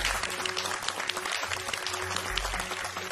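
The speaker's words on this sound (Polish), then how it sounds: "Bardzo proszę o brawo." A studio audience at a Polish history quiz show claps in warm, steady applause, close and sustained for a few seconds with no voices over it.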